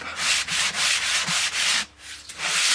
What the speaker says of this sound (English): Now, sandpaper.